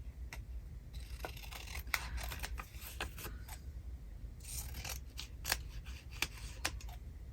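Scissors snip through paper ephemera in a craft session, a series of quiet close cuts and rustles with irregular spacing and small paper scrapes between them.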